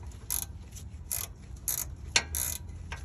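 Wrench working a 10 mm nut loose on a rusty airbag lift bracket of a 2nd-gen Toyota Sequoia Platinum, a series of short ratcheting clicks in separate bursts, close and fairly quiet, with no voices.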